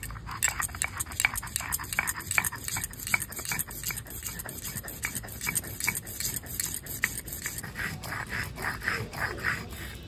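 White and black mustard seeds, green chilli and poppy seeds being ground into a spice paste for pabda fish curry, a fast steady train of scraping, knocking strokes, close and fairly loud, with no talk.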